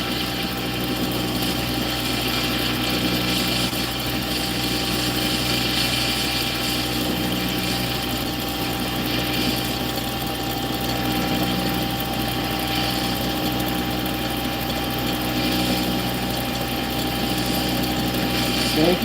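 A findbuytool.com wood lathe runs steadily, turning a wooden workpiece. It makes a continuous, even mechanical whir with a constant loudness and a faint rattling texture throughout.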